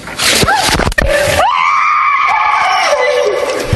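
A woman screams loudly as ice water is dumped over her, a long sustained high-pitched shriek preceded by a few short excited yelps, close and alone.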